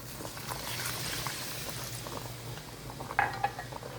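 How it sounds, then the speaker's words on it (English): Water poured into simmering gravy for Gehacktes Stippe, an East German ground-meat dish, makes a soft liquid hiss and bubbling in a cooking pan, with a couple of faint clinks of a utensil against the pan near the end. "Now we're going to add the water."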